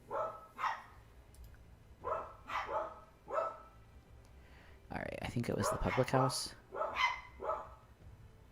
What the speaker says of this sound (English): Apologies about the dogs and the doorbell.